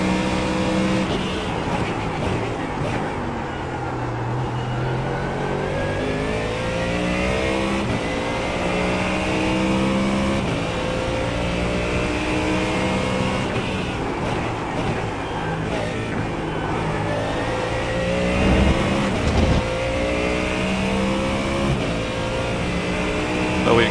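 A Ford Mustang GT3 race car in a sim racing game at Sebring, its engine running continuously and loud as it climbs through revs, drops on upshifts and snarls again for a long stretch, with no talk over it.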